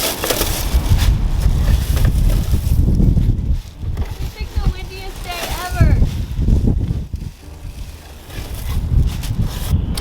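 Gusty wind buffets the microphone in heavy low rumbling bursts, loud and uneven, with a person talking underneath.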